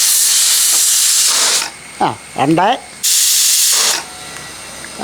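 A pressure cooker, used while cooking beef kurma, releases loud bursts of hissing steam. A long blast is followed by a brief pause with a few spoken words, then another sharp hiss that cuts off.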